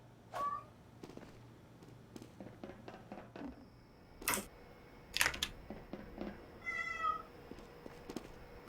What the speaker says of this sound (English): Why is my cat so loud?